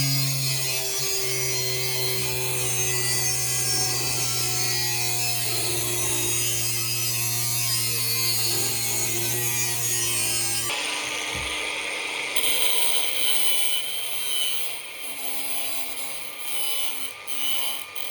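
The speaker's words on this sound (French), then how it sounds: "Je vais y découper une bande de 5 mm de large." A steel square is cut into a narrow 5 mm strip in a workshop. A steady, loud grinding and whirring runs through the first ten seconds, then gives way to a scratchier, uneven cutting sound with short pauses, and no one speaks.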